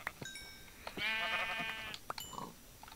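A sheep in a video game gives a single clear bleat, a drawn-out wavering baa lasting about a second, with soft clicks and game sounds before and after and no talk.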